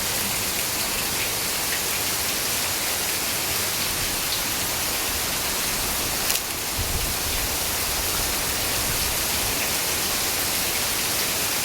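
Dense, steady downpour of heavy rain in Pondicherry pattering continuously at an even level, with one brief knock partway through.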